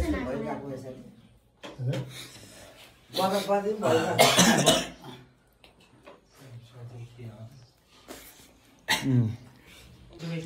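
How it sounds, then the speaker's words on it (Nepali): A child coughs several times in short bursts, with quiet voices and breathing in the pauses. "खोकी लाग्यो"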